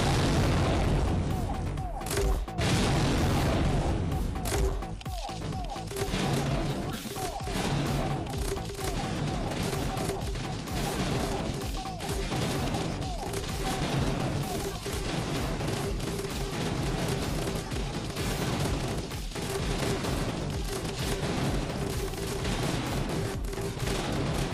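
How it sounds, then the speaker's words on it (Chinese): A video-game barrage of one hundred dragon-fruit cannons firing at three high-health zombies: dense rapid booms and blasts piling over one another for the whole stretch, with a narrator's voice now and then. "在大炮的狂轰烂炸下，高血量僵尸们被击败了"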